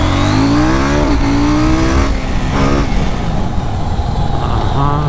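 A KTM Duke 790 motorcycle accelerates hard in first gear in city traffic. The engine note climbs steeply again and again in loud, close revving pulls over heavy road noise.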